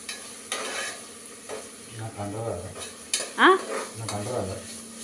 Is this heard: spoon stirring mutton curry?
yes